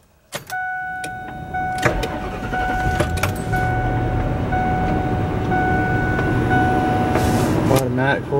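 An automatic car with 154,000 miles and a worn CV shaft pulls away on a test drive, its engine droning steadily after a brief start, with people talking over it.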